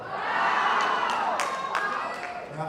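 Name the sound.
audience exclaiming wow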